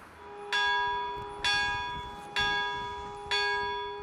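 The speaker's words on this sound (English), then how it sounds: "A bell tolls at St Helens Church, Athersley, as people gather together for comfort and support." Church bell at St Helens Church, Athersley, tolling four slow, evenly spaced strikes, each ringing out and decaying before the next, loud and clear with no talk.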